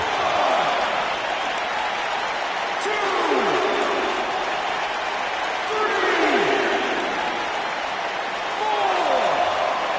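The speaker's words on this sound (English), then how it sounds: "by the sound of this crowd, I think they're getting what they wanted" A wrestling arena crowd roars and cheers in WWE WrestleMania, a steady loud wash of noise that swells and recedes, with faint impacts beneath it.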